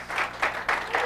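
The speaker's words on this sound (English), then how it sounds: "round of applause" Applause for a speaker after a talk on cryptocurrency and the future of finance, arriving in uneven swells of clapping from a modest audience, fairly close and moderately loud, with no voices over it.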